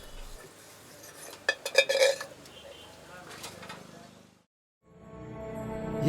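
Dishes, pots and pans clink and clatter in a household kitchen, a cluster of sharp metallic knocks followed by softer handling noise and a brief silence, with someone speaking in between.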